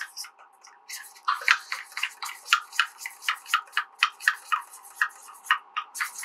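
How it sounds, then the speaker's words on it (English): Flaxseed gel whisked vigorously in a bowl while baking, giving a fast, even run of sharp clicking strokes that carry on steadily and close up. "I'm going to whisk it uh, vigorously till you get a jelly consistency"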